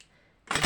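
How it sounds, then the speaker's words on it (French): Scissors make one short, sharp snip against desk-bin material after a near-silent pause, a close, crisp cut lasting a fraction of a second. "Surtout quand on prend les ciseaux à l'envers."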